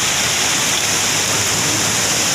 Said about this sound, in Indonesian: Kondisi Sungai Lamasi saat ini.